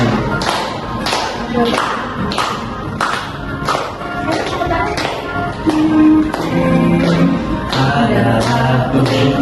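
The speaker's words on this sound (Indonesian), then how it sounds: "Teman-teman bisa sambil tepuk tangan," A group of people in a therapy activity session clap their hands together in a steady, evenly spaced rhythm, with voices and chanting running underneath.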